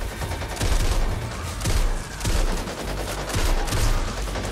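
Rapid bursts of automatic gunfire in the Back 4 Blood video game, with several loud volleys firing one after another and short pauses between them.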